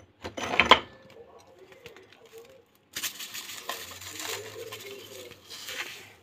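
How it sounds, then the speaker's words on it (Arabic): Lemon salt poured onto gas stove burners during cleaning gives a brief, loud gritty rattle near the start, followed after a pause by a longer stretch of scattering grains and scraping with faint background sound. "وبعدين هنزل بملح ليمون"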